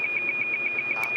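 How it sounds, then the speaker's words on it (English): A fire alarm sounding inside a TV station during derecho storm coverage in Cedar Rapids, Iowa: a rapid, loud, steady train of identical high electronic beeps, about eight per second, with no talk. "It's our fire alarm inside."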